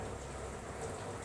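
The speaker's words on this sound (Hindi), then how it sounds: "क्योंकि यहाँ पे बारिश चल रही है लगातार" Steady rain falls continuously in an even, faint hiss, quiet and constant throughout with no voices over it.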